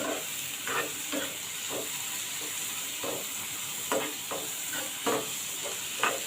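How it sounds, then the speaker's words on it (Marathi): Finely chopped tomatoes sauté in a pan for paneer bhurji, a soft continuous sizzle under regular scraping and clinking strokes of a spatula, close by and without voices. "हे टोमॅटो आहेत, लहान होते, बारीक चिरून घालत आहे। आपण चांगलं परतून घेऊया।"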